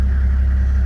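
A 1998 Toyota Landcruiser trayback diesel engine runs with a steady, deep low rumble, close and continuous, with no voices over it.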